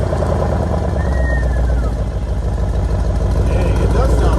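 A Mercedes CLS63 AMG engine idles steadily with a low, constant rumble throughout, while voices talk nearby over it.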